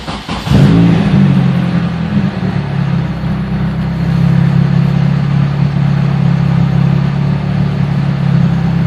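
A car engine catches on a single key turn: a brief cranking burst, then it settles into a loud, steady idle with a low rumbling hum close by, and no talking.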